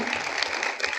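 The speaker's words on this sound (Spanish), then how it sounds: "Un aplauso a la Frida." Audience applause at the opening ceremony of a Model United Nations event, a dense, steady wash of clapping filling a short burst at moderate loudness with no talk over it.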